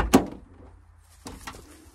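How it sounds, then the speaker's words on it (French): A Fiat Panda 4x4 car door is opened, heard as a sharp click and thump followed about a second later by a second, softer latch or hinge knock, close by and otherwise quiet. "L'ouverture de la porte automatique."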